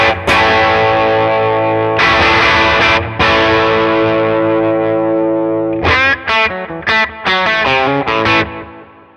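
Electric guitar played through a Runestone overdrive pedal with its gain set around 10, giving a loud, saturated distorted tone: sustained ringing chords with short breaks, then a burst of choppy, rhythmic staccato strums near the end.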